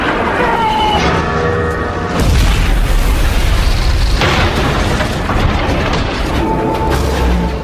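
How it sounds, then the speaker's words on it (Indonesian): Deep booming explosions and heavy rumbling roar continuously, loud and close, as a fighter jet fires, its jet-like whoosh blending into bursts of blasts. "terdengar suara gemuruh dari jet tempur yang langsung melepaskan tembakan"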